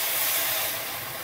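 An octopus risotto pan deglazed with ouzo sizzles in a loud, steady, close hiss that fades slightly toward the end.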